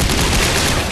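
Gunfire in the sci-fi horror game Dead Space 3, a loud, dense burst of shooting and noise that fills a single second without pause.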